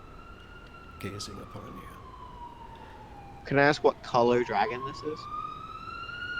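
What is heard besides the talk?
city sirens in the background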